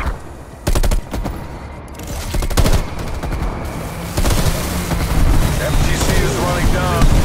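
Bursts of automatic gunfire from the Call of Duty: Black Ops Cold War video game crackle in several loud volleys, mixed with booming impacts and a dense battle background.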